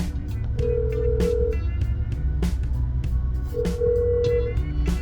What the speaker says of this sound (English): Got a phone call in the middle of that.